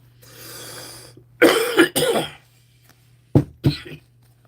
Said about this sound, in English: And the way I keep coughing.